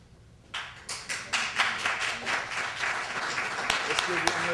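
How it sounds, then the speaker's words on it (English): Audience applause after a poetry reading at a branch library, a burst of hand clapping that swells in repeated waves and continues steadily, moderately close and fairly soft. "Let's give you a great round of applause there."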